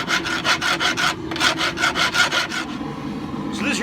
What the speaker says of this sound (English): now I can draw file this bevel, which is going to keep the blade straight